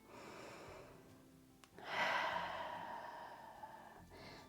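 Deep breath during a strong yoga balance session, a soft airy inhale then a fuller, louder exhale that swells and slowly fades, close to the mic with no talking.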